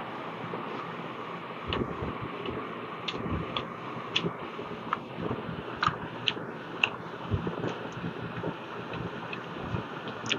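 Someone chews luchi with Kashmiri aloo dum close to the mic, giving soft wet chewing with scattered crisp clicks and ticks over a faint breezy background, with no talk.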